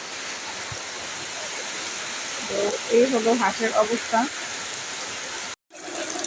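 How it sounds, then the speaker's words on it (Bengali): Heavy rain pours steadily outside a duck house on a farm, a dense, continuous hiss that stays loud throughout, with someone speaking briefly over it partway through. "বাহিরে প্রচণ্ড বৃষ্টি হচ্ছে"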